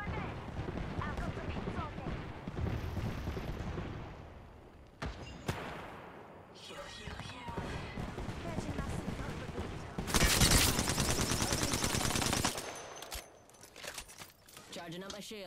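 Gunfire in the video game Apex Legends during a ranked match, with dense bursts of shots, sharp impacts and a loud sustained burst near the end, mixed with game effects and speech throughout.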